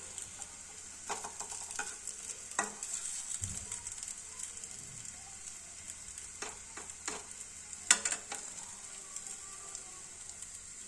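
A cutlet fries in hot oil in a home kitchen, giving a steady, quiet sizzle with occasional louder crackles and pops as it is turned over.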